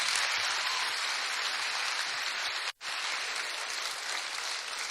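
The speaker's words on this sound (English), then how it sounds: "let's give her a big round of applause" A pageant audience at a summer Strassenfest gives steady, dense applause with a brief silence cut into the middle before the clapping resumes at the same level.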